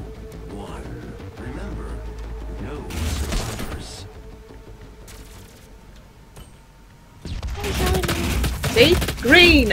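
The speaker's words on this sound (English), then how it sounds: "I'm going to try the burst rifle." Burst rifle fire in DOOM team deathmatch multiplayer crackles in rapid clusters of shots with mechanical clatter, then swells into a louder, denser volley near the end, mixed with game effects and occasional talk.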